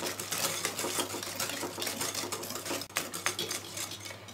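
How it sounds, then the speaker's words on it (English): Egg is whisked into chocolate chip muffin batter with a spoon in a bowl, giving quick irregular tapping and clinking strokes close by, with no speech. "You need to use a spoon and whisk it nicely with the egg."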